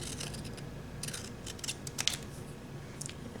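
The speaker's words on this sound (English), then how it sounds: "So I'm going to go ahead and cut across that one." Large scissors snip through stamped card pieces for a handmade hedgehog greeting card, a few short crisp cuts over a quiet room background.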